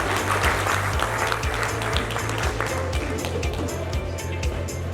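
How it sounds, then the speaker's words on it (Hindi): Audience applause at an Engineers Day 2021 ceremony in Suratgarh, a steady wash of clapping from a crowd running through the whole stretch, fairly loud, with a low rhythmic thumping underneath. "एक बार जोरदार तालियों से स्वागत करें।"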